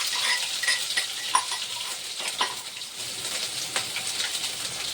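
Cumin, mustard seeds and ginger-garlic paste sizzle in a pan for a bottle gourd bhaji: a steady, close crackle with scattered small pops and stirring scrapes, and no talking.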